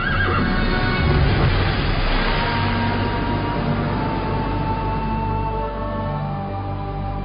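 A horse whinnies amid a dense, steady wash of noise that sounds like rushing water and movement, loud and continuous with no speech.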